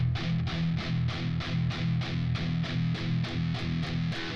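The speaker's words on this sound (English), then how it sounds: "Heavily palm muted, just doing all downstrokes." A distorted electric guitar in standard tuning chugs a palm-muted power chord in steady, evenly spaced downstrokes, tight and punchy, repeating about three times per second.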